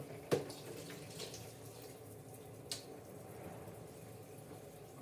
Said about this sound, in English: I'm not sure if you can hear the hot water running in the background